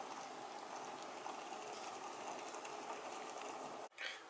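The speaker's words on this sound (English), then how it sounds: "once you start to see the water bubble a little, you want to stir it up a bit more before you cover it" Water with rice and beans simmering in a pot, a steady low bubbling hiss that runs evenly and close by, with a brief clunk and short gap near the end.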